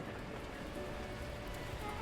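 Torrential rain pours steadily in the Beacon Pines video game, a dense, even hiss of rain on surfaces with no talking over it.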